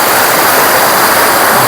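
A large mountain river rushes past, a loud, dense, continuous roar of churning water filling the whole moment with no pauses.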